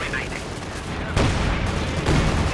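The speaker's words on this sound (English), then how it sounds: "field gun firing at the rear" Gunfire and artillery blasts from Company of Heroes 2, a field gun firing among the bursts, with two loud booms standing out over a constant dense battle din.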